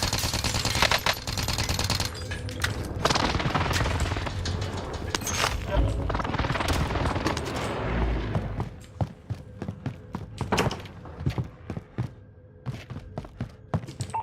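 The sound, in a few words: allied precision airstrike in a video game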